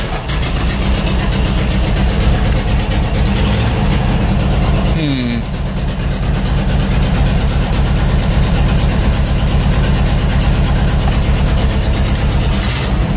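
A VW Westfalia bay window camper's engine runs loudly and steadily with a freshly loosened alternator belt, a constant low droning idle throughout with brief faint voices in the background.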